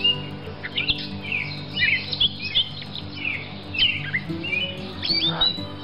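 Several birds chirp and tweet in quick, scattered calls, fairly close, over a quiet steady background hum.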